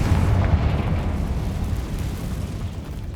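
Confringo explosive fire spell cast in Hogwarts Legacy, a deep rumbling blast that swells at once and then fades over a few seconds, loud and alone.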